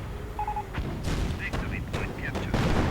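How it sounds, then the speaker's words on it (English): A StuG 42 assault gun fires in a video game battle. Several sharp blasts land in a rough sequence beneath continuous commentary from a caster. "Stu-42 blasting away."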